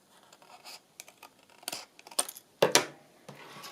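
Scissors snipping through scrapbook paper to cut out pockets, a scattering of quiet, close cuts and rustles that build to a couple of sharper snips near the end.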